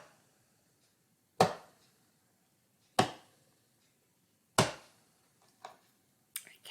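Hands tap a slow beat, three sharp, close slaps spaced well apart, followed by a few softer, quicker taps and quiet gaps between.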